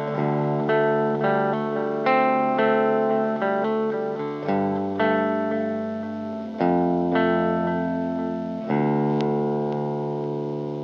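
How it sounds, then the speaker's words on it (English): A sustained guitar line runs through an Earthquaker Devices Dispatch Master, with delay repeats and a touch of reverb. Notes ring and overlap in an even, moderately loud phrase, with no voices. "I'm going to be adding delay and a slight bit of reverb with the Dispatch Master"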